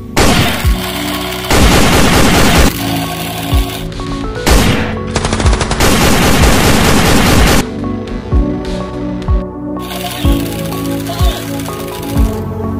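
A toy gun shooting set, including machine gun and sniper style blasters, plays loud electronic firing effects: rapid rattling bursts, booming single shots and whirring tones, close up and nearly continuous.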